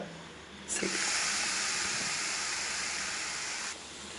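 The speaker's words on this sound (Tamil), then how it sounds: "கோவக்காவை சேர்த்துட்டு நல்லா இது கொஞ்சம் நல்லா வேகிற அளவுக்கு நல்லா வதக்கிட்டே இருங்க" Chopped ivy gourd hisses steadily as it hits hot oil in a kadai, a sudden broad sizzle that holds for about three seconds and then eases off.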